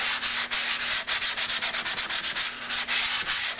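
Hand sanding on a Yamaha FZR motorcycle fairing with a hard block, steady rhythmic rasping strokes back and forth, close and fairly loud, with a faint constant hum underneath.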